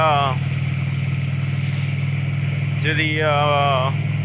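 A motorcycle on a ride in fine weather, its engine a steady low drone with a constant mid-pitched hum, while someone talks over it at the start and end.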